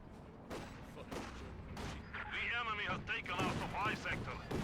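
A Flak Panzer fires during a Company of Heroes 2 match, with several bursts of rapid gunfire popping in clusters amid battle noise while a commentator talks over it.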